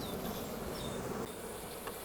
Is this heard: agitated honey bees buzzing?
yes